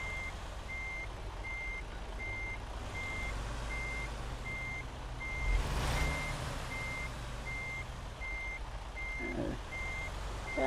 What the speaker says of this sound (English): We need to swing this fucking trailer back a little bit so we can line ourselves up to the door